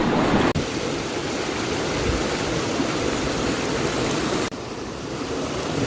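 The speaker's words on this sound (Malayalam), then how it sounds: "ഇങ്ങനെ ചെറിയൊരു നദി ഇങ്ങനെ ഒഴുകി ഇങ്ങോട്ട് വരുന്നു" Continuous rushing water of a small river flowing nearby in Mechuka, a steady broadband wash with no voices.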